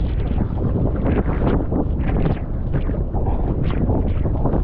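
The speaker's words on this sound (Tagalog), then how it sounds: "Mahangin." Heavy wind at a seaside fishing spot with big waves buffets the microphone in loud, continuous gusts, a deep rumbling roar with no other sounds clearly audible.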